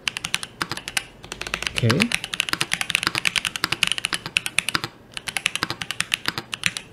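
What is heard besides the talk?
typing test on aluminium mechanical keyboard, Boba U4 tactile switches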